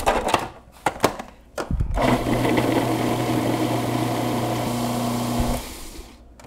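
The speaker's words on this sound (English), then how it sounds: "if you continue to run the processor, once that butter is cut in, then actually we'll start to make a dough" A food processor cuts butter into a crumb mixture for a nutmeg coffee cake. After a few clunks, the motor whirs at a steady, loud, close pitch for about three and a half seconds, then winds down.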